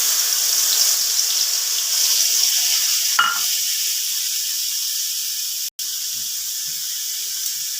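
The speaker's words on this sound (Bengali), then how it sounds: "এবার আমি এক বাটি জল দিয়ে দিচ্ছি, সেটা ঝোলে পরিণত হবে" A bowl of water is poured into sizzling fried spice paste in a pan while cooking a Bengali katla fish curry, giving a steady loud hiss and splash that continues evenly without voices.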